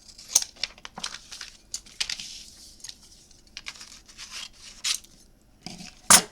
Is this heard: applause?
no